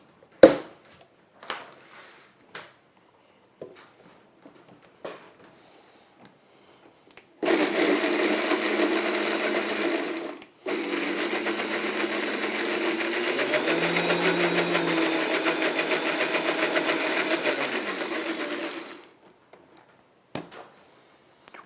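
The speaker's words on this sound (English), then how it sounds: "When you're making a sauce in the blender," A blender whirs loudly and steadily through Thai peanut sauce ingredients for about eleven seconds, pausing once briefly before restarting, after a few quiet knocks and clicks, then stopping abruptly.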